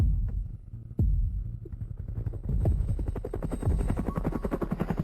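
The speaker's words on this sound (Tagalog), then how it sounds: "Helicopter?" A military helicopter flies nearby, a low rhythmic rotor thump with a steady throbbing pulse and a rumbling drone that stays loud throughout, with no speech.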